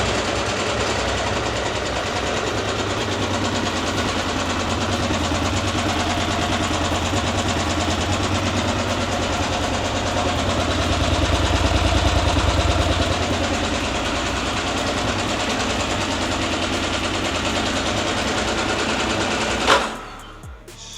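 A KTM 890 Adventure motorcycle on its stock exhaust idles steadily and close, a continuous even engine drone with a slight swell midway, cutting off abruptly near the end.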